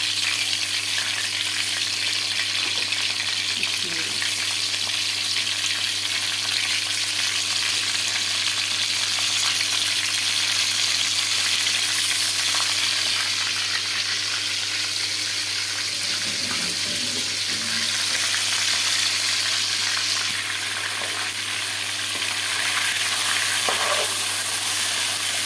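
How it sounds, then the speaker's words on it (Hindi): Chicken pieces with frozen ginger-garlic paste fry and brown in a pan for a chicken korma, giving a steady, close sizzle with faint stirring and scraping throughout, and no voices. "साथ ही में चिकन जो है वो डाल देती हूँ। लहसुन के इसको ब्राउन करेंगे।"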